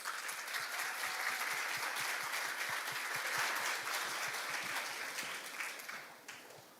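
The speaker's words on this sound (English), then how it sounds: "Ladies and gentlemen, please welcome her on the stage with a big round of applause." An audience at a youth international forum on global citizenship education gives a warm round of applause welcoming a speaker to the stage, dense and steady before tapering off toward the end.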